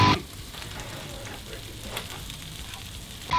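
A pork chop sears in a hot pan over high heat, giving a steady, close sizzle and crackle that runs unbroken, with a brief louder clatter at the start and end.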